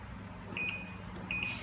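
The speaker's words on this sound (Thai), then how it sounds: "ใส่ไมโครเวฟได้เลยสักประมาณ2นาทีอะค่ะ" A microwave oven is started, giving two short electronic beeps about a second apart over low background hum in a kitchen.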